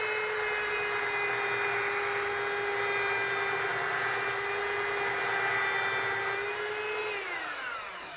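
A belt sander runs steadily, loud and close, as a tool edge is held against the belt for sharpening, a sustained whine with a slight pitch drop near the end as the belt slows.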